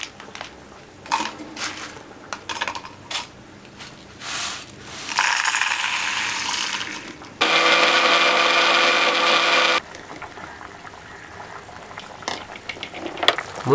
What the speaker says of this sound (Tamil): வறுத்து வச்சதை வந்து இப்போது மிக்ஸி ஜாரில் போட்டு அரைச்சிக்கலாம்.